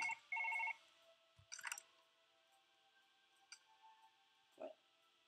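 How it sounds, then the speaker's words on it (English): A telephone rings in the surgery video game Surgeon Simulator, two short electronic ring bursts near the start, then sparse clicks and small thuds in a quiet room with no talking. "Oh, somebody's calling me, I'm gonna pick up the phone."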